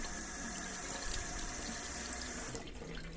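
Tap water runs steadily into a sink while a cleaned red rock crab is rinsed, a close and continuous splashing hiss that eases off near the end.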